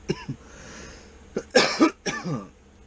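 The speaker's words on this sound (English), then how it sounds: "still recovering off this cough right here." Several harsh coughs come up close from someone smoking CBD and recovering from a cough, a couple of small ones first, then a cluster of rough, throaty hacks near the end.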